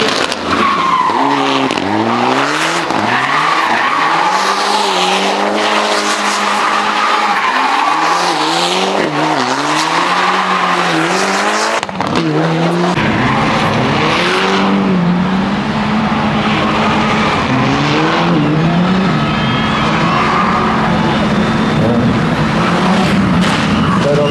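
Mitsubishi Lancer rally car at the Barbórka rally on Karowa street, engine roaring loud and close with repeated revving and tire skidding and squealing, crowd noise behind.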